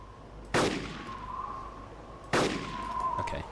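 Two loud gunshots in the video game Arma 2 DayZ on the Namalsk map, each a sharp blast followed by a ringing tail, spaced about two seconds apart with no talk.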